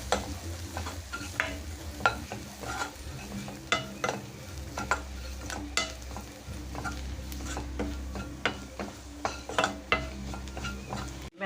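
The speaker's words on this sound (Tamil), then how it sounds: "மஞ்சள் தூள் போட்டுக்கலாம் மிளகா பொடி போட்டுக்கலாம் நல்லா வதக்கி விடலாம்" Garlic sautés with turmeric and chili powder in a pan for Kerala-style home cooking, with repeated spatula scrapes and taps over a low, continuous sizzle.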